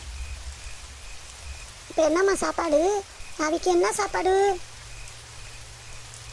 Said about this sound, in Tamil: மழையும் பெய்யுது, இருட்டாயிடுச்சு.